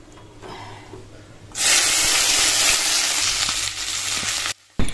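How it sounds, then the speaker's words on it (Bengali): Okra hits hot oil in a wok and bursts into a loud, steady sizzle after a quiet start, a broad frying hiss holding for about three seconds before dropping away abruptly. "এই দেখো বন্ধুরা, ভেন্ডিগুলো আমি তেলে দিয়ে দিলাম।"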